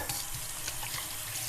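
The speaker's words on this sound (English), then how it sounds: "I'm going to rinse my hands" Running tap water pours over hands being rinsed at a kitchen sink, a steady close hiss and splatter of the stream throughout, with no talking.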